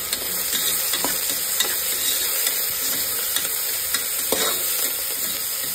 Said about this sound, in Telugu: కాస్త కొత్తిమీర, కాస్త పుదీనా ఇలా యాడ్ చేసుకొని మిక్స్ చేసుకోవాలి